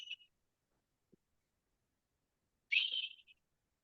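A voice imitating a whistling sound heard inside the ear: two short, thin high whistles separated by silence, the second longer and falling off, quiet and close.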